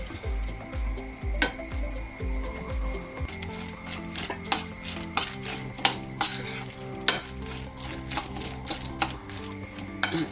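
Kudampuli and salt water being stirred in a vessel, with repeated scraping and clinking strokes of a spoon against metal, close and fairly loud, plus sharp taps, with no talking.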